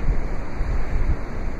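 Ocean waves on La Push beach on the West Coast, a steady broad wash of surf mixed with wind buffeting the microphone, loud and continuous with no voices.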